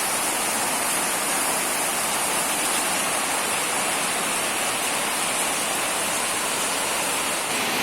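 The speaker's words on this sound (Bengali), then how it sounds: "দেখুন বাইরে কত বৃষ্টি হচ্ছে" Heavy rain pours steadily outside, a dense, even hiss of falling water that stays loud and unbroken throughout.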